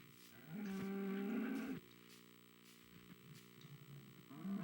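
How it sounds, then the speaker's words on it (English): A single cow moos loud and close, a long low bellow lasting over a second, then quieter background hum and faint ambient sounds follow, with no talk. "Hi, cow."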